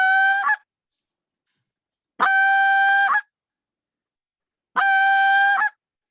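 Three separate long, reedy push-moan notes from a short reed goose call, each about a second long and held on a single tone, spaced apart by clean silence and sounding close and loud.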